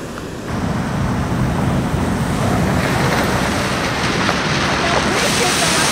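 Sea waves wash over a road in Dubai, a continuous loud rushing surf mixed with gusting wind buffeting the microphone.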